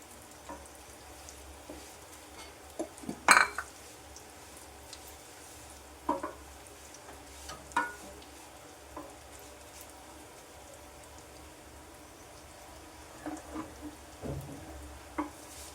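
Vermicelli roasts in ghee in a pan for semiya kesari, giving a soft, steady sizzle broken by occasional sharp scrapes and clinks from stirring, with no talking.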